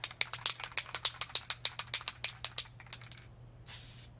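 Spray paint applied in a third coat to a Go Devil minibike seat, a rapid run of short sharp hissing bursts, close and evenly spaced, then a longer fainter spray after a pause.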